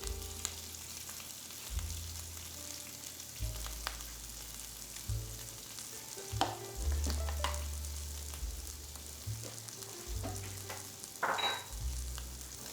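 Sliced onions and mushrooms sweat in a hot pan on a stovetop, giving a steady close sizzle and frying crackle with occasional stirring scrapes and louder pops, and no talking.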